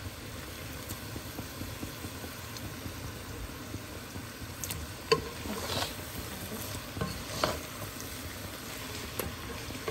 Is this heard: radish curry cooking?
yes